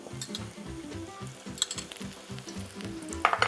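Fresh pasta stir-fried in a pan, seasoned for a tom yum sauce: a steady close sizzle of frying with a regular scrape-and-toss rhythm from a utensil, plus a few sharper clinks near the end, no voices.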